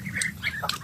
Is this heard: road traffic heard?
no